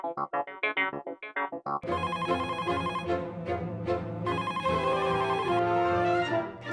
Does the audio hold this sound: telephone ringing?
yes